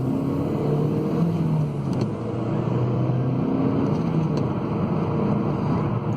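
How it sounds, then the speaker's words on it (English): A Volvo C30 pulls hard in second gear, its engine droning steadily from inside the cabin with a rising hum and a constant wash of road and wind noise. "give it some in second gear"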